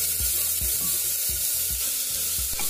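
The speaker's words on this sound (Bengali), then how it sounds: "এবার এই তেলটা গরম হয়ে গেলে এর মধ্যে ভেজানো মুগ ডাল আর অড়হর ডালটা দিয়ে দেব।" Soaked moong and toor dal sizzle loudly in hot oil in a pressure cooker, a dense, constant frying hiss with regular soft scraping knocks from stirring, close up and with no voices.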